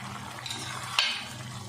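A pot of moti kofta pulao with mostly absorbed water bubbles softly as it is gently stirred, a faint low simmer with one brief sharper scrape or splash.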